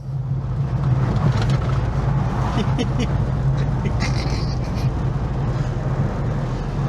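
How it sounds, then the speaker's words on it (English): A Honda Acty with 38 horsepower driving along, its engine and road noise droning steadily from inside the cab, with faint squeaky chirps over the top. "Let's go and take it for a final drive, experience the full 38 horsepower"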